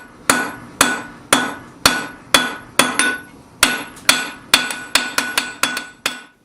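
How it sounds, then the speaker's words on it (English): Sharp, ringing hammer blows on hot metal, about a dozen strikes at a steady pace that quickens toward the end, close and loud with no talking. "I use it mainly when I need to do a lot of forging on a bar"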